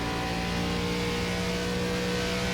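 An ARCA stock race car at Watkins Glen in iRacing, a loud steady engine drone held at high revs after an early shift into third, with no one talking.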